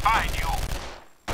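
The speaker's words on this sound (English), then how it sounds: "Who the hell's shooting me?" Gunfire in the video game Contract J.A.C.K. comes as a short loud burst at the start of the clip, then fades into near silence before a brief noise returns at the end.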